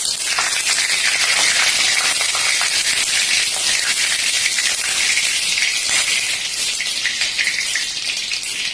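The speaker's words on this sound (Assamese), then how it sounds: "হেতাখনত পানী আছিলে মই মচি ল'বলৈ নহ'ল সেইকাৰণে মানে পানী চিটি আহিছে" Water spattering in a very hot wok-style pan that had been left wet, with bay leaves and a dried chilli already added: a loud, dense, continuous hiss and crackle lasting the whole stretch.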